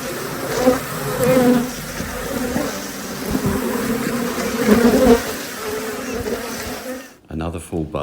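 Dense, droning buzz of many honey bees inside a hive being worked, loud and close, with bursts swelling and fading, before a brief break near the end.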